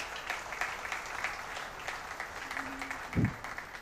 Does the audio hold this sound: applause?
yes